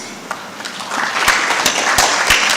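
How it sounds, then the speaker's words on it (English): Audience clapping at a university funding conference in Kenya, a scattered round of applause building over a couple of seconds with sharp individual claps standing out. "Let us give a round of applause."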